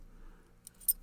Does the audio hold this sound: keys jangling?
yes